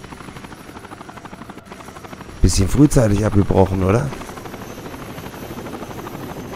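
A helicopter in the tactical shooter Rainbow Six Vegas 2 gives off a continuous rotor drone that runs through the whole stretch, briefly under a man's spoken remark in German.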